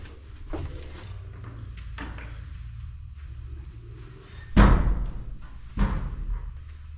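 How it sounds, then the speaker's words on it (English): A heavy church door creaks and bangs with a couple of solid thuds, echoing in a quiet, roomy church interior with faint low rumble. "This door, outer door's open. It's got an inner door as well."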